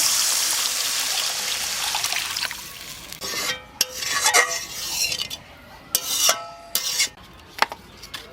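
Water goes into a pan of fried turmeric spice masala, starting as a loud, bright, steady hiss that fades after a few seconds into scattered scraping, clinking and bubbling bursts, close and with no talking.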